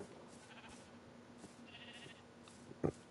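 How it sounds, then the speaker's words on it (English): A sheep in the video game Minecraft Bedrock bleats once, a short loud cry near the end, after quieter in-game ambience and a few faint clicks, with no one talking. "somehow a sheep got in there"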